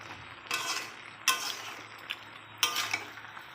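A spoon stirring and scraping fish-head vegetable curry as it sautés in a pan, three distinct clattering strokes with a faint background hum.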